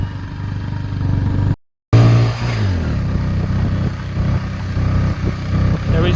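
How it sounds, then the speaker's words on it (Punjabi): A motorcycle labours in first gear up a steep road toward the Baba Balak Nath temple, its engine droning close and strained, with a brief dropout and a rising rev. "ਮੋਟਰਸਾਈਕਲ ਵੀ ਬਸ ਪਹਿਲੇ ਗੇਅਰ ਮੈਂ ਚੜ ਰਹੇ ਆ"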